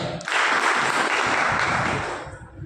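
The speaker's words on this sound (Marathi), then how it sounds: "त्यासाठी एकदा टाळ्या उडवून जोरदार" Crowd applause at a political meeting: a dense, steady wash of clapping that starts abruptly, holds for about two seconds, then gradually thins and fades.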